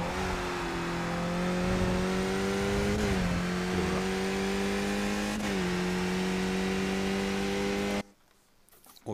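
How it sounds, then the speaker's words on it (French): A Skip Barber open-wheel race car in iRacing at Spa holds full throttle with a steady, loud engine drone that dips slightly at two brief shifts before cutting off abruptly near the end. "je vais remettre les gaz à fond."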